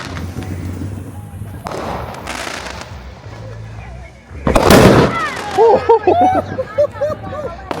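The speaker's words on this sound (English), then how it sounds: "Now that's a firecracker." A loud firecracker blasts sharply midway through a 4th of July fireworks display in Seattle, its burst followed by crackling pops and whistles, with crowd chatter and voices around it.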